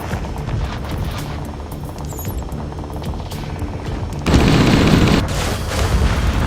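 Gunfire and booming blasts echo through a video game city, with rapid bursts over a continuous low roar and a loud surge of jet-like rushing noise partway through.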